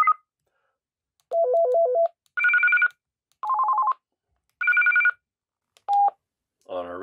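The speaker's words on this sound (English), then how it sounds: "this is where we can adjust the ringtone" A Belfone BF-OG200 FRS two-way radio plays its call ringtone as a run of short electronic melodic beeps in separate bursts, clear and close, ending in a brief warbling chirp with no talk.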